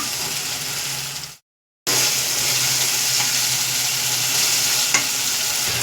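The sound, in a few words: stirring gravy with coriander while cooking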